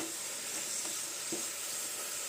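Cardamom seeds being stirred into a sweet pitha filling in a pan, a soft, steady sizzle with faint scraping touches and no talk.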